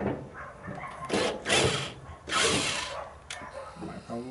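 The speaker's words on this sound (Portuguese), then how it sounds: "você tem que furar para ele entrar dentro da coluna, não para fora" A drill drives a screw into the body column of a 1969 Volkswagen Kombi van, with several short mechanical whirring bursts separated by brief pauses, heard close up.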